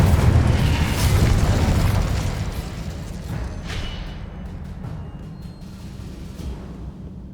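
A Confringo spell blast in Hogwarts Legacy, a loud booming explosion up front that rumbles and slowly fades, followed by softer scattered crackles and debris.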